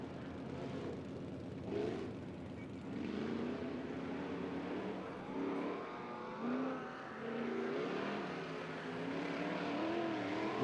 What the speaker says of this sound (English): A solid takeoff for them in a truck known to all of us as Shine Time.